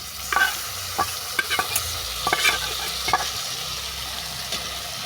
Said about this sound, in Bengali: আলু হালকা করে ভেজে নেওয়ার পর দিয়ে দিচ্ছি দিয়ে দেওয়া টমেটো